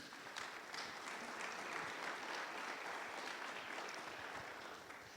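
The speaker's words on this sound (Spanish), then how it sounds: "Démosle palmas a nuestro Señor," A church congregation claps together in sustained, even applause that fills the whole stretch, fairly close and steady, with no talking over it.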